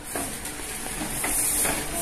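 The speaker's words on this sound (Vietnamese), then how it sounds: "Chiên cái bánh này là tốn dầu lắm nha mấy bạn" Meat-filled dumplings fry in hot oil, giving a continuous loud sizzle and hiss with small crackling pops throughout.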